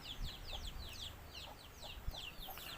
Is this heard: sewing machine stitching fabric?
no